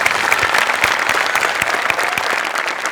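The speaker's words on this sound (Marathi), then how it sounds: "आज तू सुटली होतीस आणि तुझ्यासाठी जोरदार टाळ्या" A studio audience at a Marathi comedy show claps loudly and continuously for a performer, a full dense round of applause that lasts throughout.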